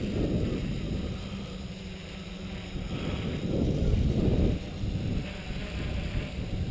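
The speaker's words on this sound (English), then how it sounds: "There's a bit of wind coming quite strongly from my left." Strong gusty wind buffets outdoors, a loud low rumbling roar that swells and eases in waves, with a faint high steady whine running underneath.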